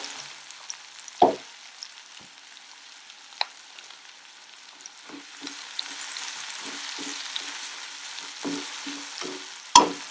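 Onions or aromatics sautéing in a pan for brinjal biryani, a low sizzle running throughout with occasional sharp clinks of a spoon against the vessel.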